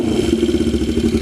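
A Yamaha XS400 motorcycle with a newly rejetted carburetor runs nearby, its mid-pitched engine putting out a quick, even, pulsing putter for a short moment.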